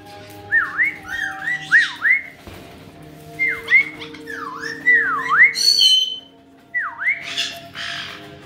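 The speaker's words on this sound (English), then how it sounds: "Can you whistle for me?" A parrot whistles repeatedly in rising and falling tones, with a few squawks mixed in, fairly close and clear over a quiet room background.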